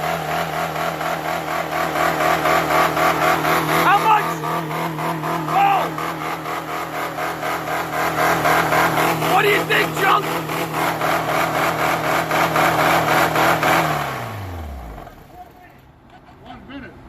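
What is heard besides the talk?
Honda Fit VTEC engine revving hard in neutral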